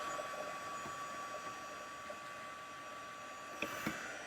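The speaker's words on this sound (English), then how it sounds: "I'm gonna bring in my heat tool to dry it, and then we'll heat set it too" A heat tool blows a steady, fairly quiet whirring hum to dry ink on a paper craft project, running continuously with a couple of faint clicks near the end.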